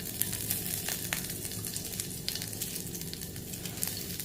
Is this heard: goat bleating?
no